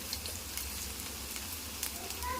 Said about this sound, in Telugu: ఇప్పుడు ఇందులోనే మనం జీలకర్ర ఉన్న ఆవాలు వేసుకుందాం